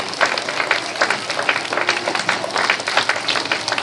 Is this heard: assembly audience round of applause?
yes